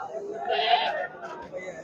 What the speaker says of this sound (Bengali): অনেক বড় একটা ছাগল